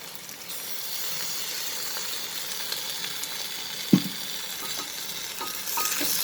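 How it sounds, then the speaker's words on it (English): Onions with ginger garlic paste sauté in a pressure cooker for chicken pulao, producing a soft, steady sizzle with a sharp clink from the spoon partway through and light stirring scrapes. "after sauteing the onions, I will add the ginger garlic paste"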